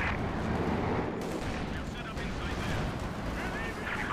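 Sustained gunfire and battlefield noise from a World War II–style multiplayer shooter with machine guns, rattling continuously and loud throughout, with players' voices mixed in over the din.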